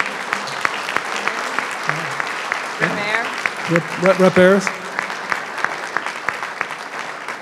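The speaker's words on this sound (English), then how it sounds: "Let's give them a round of applause" Applause from an audience at a state swearing-in ceremony for veterans advisory council members, with steady clapping throughout as legislators are named and a speaker's voice rises over the clapping partway through.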